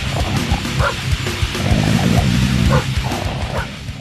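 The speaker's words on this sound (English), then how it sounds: "the metal band whose vocals were performed by two literal dogs" Two real dogs bark, yip and whimper as the vocals of a metal song, loud and constant in short, choppy bursts over a dense, heavy backing track.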